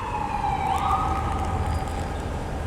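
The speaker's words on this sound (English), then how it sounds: "but how when you got screaming sirens?" Emergency vehicle sirens wail along a city street, a steady rising and falling tone at moderate distance over a constant traffic rumble, with no voices.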